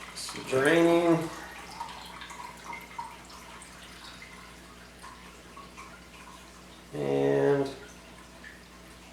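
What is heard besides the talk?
water slowly dripping through a compression sock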